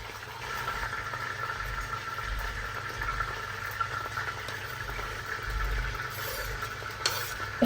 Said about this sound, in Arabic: هنا راح نبدي نحمسها، راح نحط البصل فوقها ونحمس لحد ما تصير شقرة.